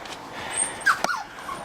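A young puppy lets out a brief high whimper and a squeak, close by but soft, over a light outdoor hiss on the Donegal coast.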